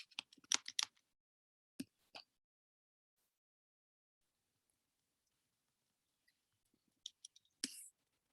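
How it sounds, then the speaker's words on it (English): Quiet keystrokes on a computer keyboard, a quick burst of clicks at first, then a few isolated taps and a final short cluster, close and faint against near silence. "I can use the phonetic keyboard and I can write hello"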